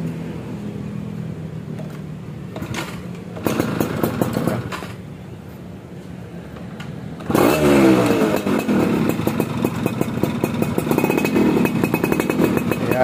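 A Yamaha F1ZR two-stroke motorcycle, cold after sitting for days and with a weak battery, cranks in short bursts before catching, then idles and revs with a loud, raspy, ringing buzz up close.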